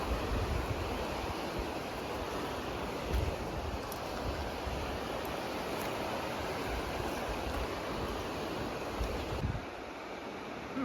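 The Miette River in Jasper National Park gives a steady, dense rushing flow like surf, broad and even throughout with no voices, dropping slightly in level near the end.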